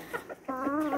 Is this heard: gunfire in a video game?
no